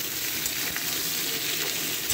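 Chopped vegetables sizzle steadily in a hot pan in a home kitchen, a continuous close hiss of frying oil with faint stirring crackles and no talking.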